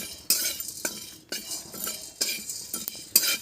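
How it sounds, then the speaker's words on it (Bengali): Whole garam masala, cumin, coriander and black peppercorns frying lightly in a pan for a vegetarian paneer dish, with repeated metal spoon clinks and scraping against the pan in short bursts. "এই গোটা গরম মশলা আর তার সাথে আছে জিরে, ধনে, গোলমরিচ, এইগুলো আমি ভেজে নেব"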